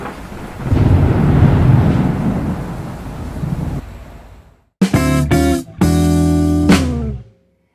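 Thunder rumbles loudly with rain for several seconds, then the rumble fades away and bright, ringing tonal bursts follow, with no voices.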